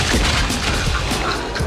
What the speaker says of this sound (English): Poe called for a laser cannon.